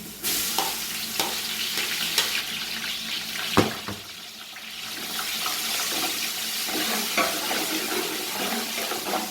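Garlic fries in a hot pan after browned onions, loud sizzling and spattering, with a few sharp clinks of a utensil stirring, continuous throughout.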